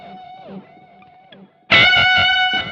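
An electric guitar plays through the overdrive pedal of a multi-effects unit. A few thin clean notes come first, then a loud distorted chord rings out with a full, sustained crunch.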